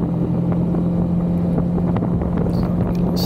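Strong steady wind roaring across the microphone while riding a Yamaha XMAX 300 scooter down a road, a loud constant rumble with an engine drone underneath and no speech.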